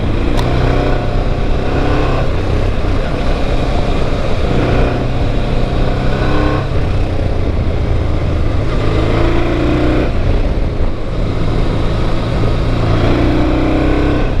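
A Honda XRV750 Africa Twin motorcycle rides the back roads of Caramulo, Portugal, its engine a loud, steady drone close to the rider that holds throughout with no talking.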